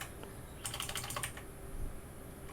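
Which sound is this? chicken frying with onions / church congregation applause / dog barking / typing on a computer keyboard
typing on a computer keyboard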